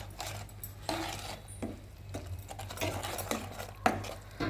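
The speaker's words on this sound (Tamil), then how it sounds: "மாவில் உப்பு போட்டதுனால அப்படி போட்டு கிண்ட வேண்டியது தான்" Adai batter of rice flour being stirred in a pan gives repeated soft scraping strokes at an uneven pace, quiet and close, under a low steady hum.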